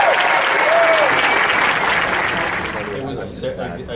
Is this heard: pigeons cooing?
no